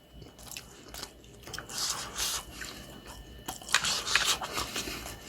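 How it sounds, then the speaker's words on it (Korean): Someone chews a spoonful of plain rice, served alongside home-cooked Atka mackerel: soft, close, wet mouth sounds and light crunches that come in uneven bursts, growing busier toward the end. "밥을 한 숟갈 입에 넣고"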